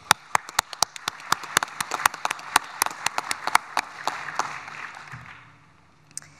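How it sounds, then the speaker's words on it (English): An audience applauds the members of a task team at a joint leadership meeting, with sharp individual claps and a steady patter of clapping that thins out and fades near the end. "we'll give you a round of applause"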